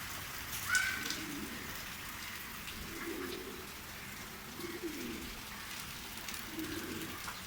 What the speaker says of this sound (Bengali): এই তো বৃষ্টি পড়তেছে